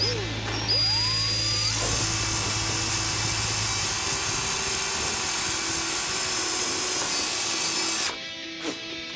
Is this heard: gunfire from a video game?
no